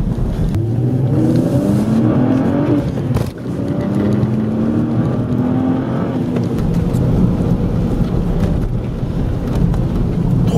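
A BMW 330i engine revs and drops in pitch through a gear change, exhaust with an Ulter Sport silencer rumbling loudly and steadily with no talking.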